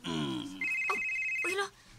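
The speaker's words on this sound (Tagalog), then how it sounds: "kakisa man ang cellphone nga nagbitingog" A cellphone ringtone plays loud and close, a bright electronic melody of sustained tones lasting about two seconds before cutting off, with some voice mixed in.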